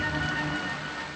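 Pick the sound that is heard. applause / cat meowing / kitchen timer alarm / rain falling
rain falling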